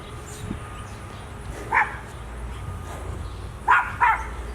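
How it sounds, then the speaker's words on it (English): A dog barks three times at a moderate distance: one bark, a pause, then two quick barks close together. "What are you barking at, Miss Tiz?"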